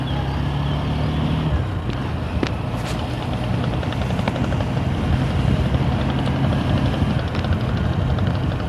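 A motorbike ride gets underway with a steady, loud engine drone and road rumble that continues unbroken throughout, with a low engine tone shifting slightly early on.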